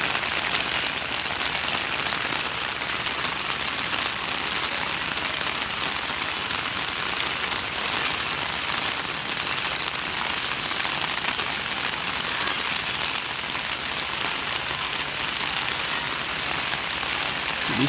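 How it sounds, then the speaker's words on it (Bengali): Steady, dense rain drums on a rooftop, a continuous even hiss of drops spread across the whole stretch with no pauses, loud and close, with no voices. "এখন আমরা বৃষ্টির শব্দটি শুনছি ছাতির উপরে বৃষ্টির শব্দ"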